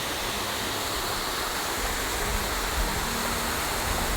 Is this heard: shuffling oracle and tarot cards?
no